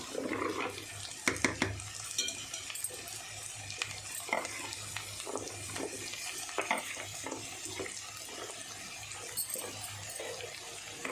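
Chopped ridge gourd pieces go into a pan, setting off a soft, steady sizzle broken by clattering stirs and scrapes, several sharp knocks early on, heard close with no voices.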